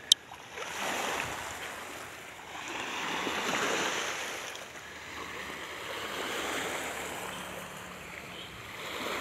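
Sea waves wash in and out along a beach on Marinduque, a soft rolling surf swelling and fading at a moderate distance, with no voices.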